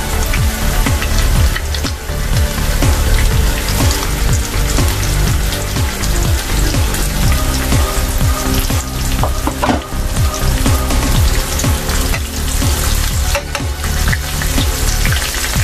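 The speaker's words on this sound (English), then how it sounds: "we're gonna fry our liver" Sliced calf liver frying in butter with bacon in a pan, a loud, steady sizzle and crackle of spattering fat running continuously from start to finish.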